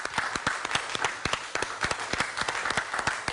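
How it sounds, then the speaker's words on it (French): A crowd claps steadily and continuously, a dense patter of applause heard from a moderate distance. "Applaudissez s'il vous plaît, ce soir."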